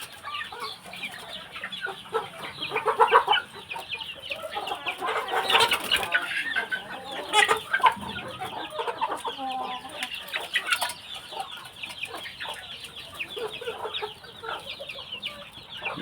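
Chickens cluck steadily at close range, with scattered higher peeps from month-old chicks mixed in among the flock.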